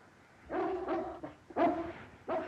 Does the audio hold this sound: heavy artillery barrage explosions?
no